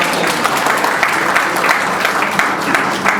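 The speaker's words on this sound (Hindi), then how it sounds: "एक बार जरा तालियां बजाएं तरुण सिंह।" Sustained, dense applause from an audience at a memorial award ceremony, loud and steady throughout with no break.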